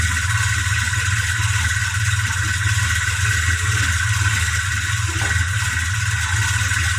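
A Suzuki Bravo engine runs steadily during a cooling system coolant flush, a low, even mechanical drone with a constant higher whine above it and no talking.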